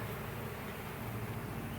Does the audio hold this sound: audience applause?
no